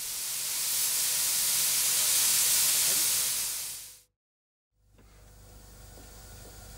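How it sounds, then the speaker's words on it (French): A steam locomotive's blower, a perforated ring pipe around the top of the exhaust, hisses steam loudly and steadily for about four seconds, cuts off abruptly, then resumes more quietly. "Le souffleur est un appareil très simple. C'est un tuyau circulaire percé de trous placé autour du sommet de l'échappement."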